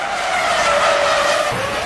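Formula One car on dry tyres skidding and aquaplaning under heavy braking on a rain-soaked race track, a loud sustained tyre hiss and whine with engine tone running steadily throughout the clip.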